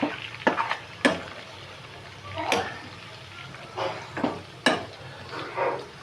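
Andhra-style chicken fry is stirred in hot oil: about five distinct scraping strokes of a spoon in the pan come at irregular intervals over a soft, steady sizzle, close and clear, with no speech.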